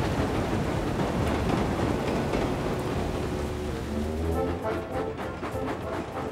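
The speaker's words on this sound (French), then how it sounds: "Cela fait plusieurs jours qu'il pleut sans discontinuer sur Chicalor." Dense, steady rain hisses across the whole stretch, with a low rumble underneath and the downpour thinning slightly near the end, from a Thomas & Friends cartoon.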